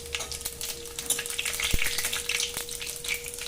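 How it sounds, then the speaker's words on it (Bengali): Gathi kochu and prawn curry sizzling in a hot pan with whole chilli and cumin tempering, a steady crackling fry with scattered pops and a couple of sharp clicks, close and continuous. "কথা বলতে গিয়ে আমি তরকারিটা ওর মধ্যে ঢেলে দিলাম।"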